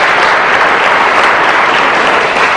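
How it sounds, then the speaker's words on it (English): Dense, steady audience applause fills a debate hall, loud and continuous with no gaps, a broad wash of many hands clapping at once for the full length. "I'm glad that you applaud"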